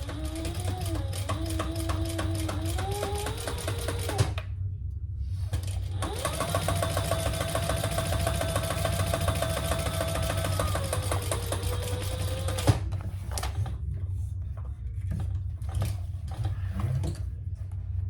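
A sewing machine top stitches a leather handbag in a steady, fast mechanical whir, running in two long bursts separated by a short pause, then winding down near the end.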